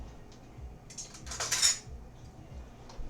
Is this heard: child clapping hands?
no